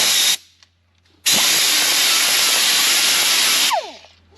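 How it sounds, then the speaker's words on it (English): A 90-degree die grinder with a grinding disc works on metal of a Massey Ferguson baler's knotter. It gives a loud, steady, high hiss in a short burst, then a longer sustained run that winds down at the end. "just a good old 90-degree die grinder with a grinder disc on here"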